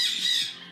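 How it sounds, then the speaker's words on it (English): A pet parrot gives one short, shrill, piercing scream up close. The scream fades out within a second. "Turns out it was just one of his 22 pet parrots."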